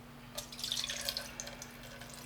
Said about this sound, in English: Now we'll put in the water.